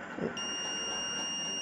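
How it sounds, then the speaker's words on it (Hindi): Multimeter set to continuity gives a steady, sustained beep with its probes across a shorted diode in an Ahuja BTZ10000 amplifier. The tone starts shortly after a brief rustle of handling and holds clearly to the end. "तो ये डायोड बिल्कुल शॉर्ट हो चुका है दोस्तों सुन सकते हैं इसमें बीप की आवाज़"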